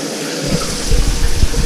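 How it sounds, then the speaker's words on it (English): Steady broadband rush of hot shower water running in a bathroom, continuous and fairly loud, with low thumps and splashes as someone moves around under the spray. "take a steamy shower"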